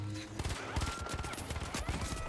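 Gunfire in the video game The Finals, rapid repeated shots in a dense, rattling burst lasting the whole moment, loud and close with a voice briefly heard.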